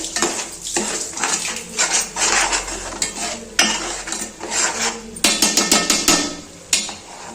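Fish being mixed in a pan with oil, turmeric and salt for a Vizianagaram-style fish curry: loud, irregular metal clanks and scrapes of a spoon against the pan, with a faint sizzle underneath.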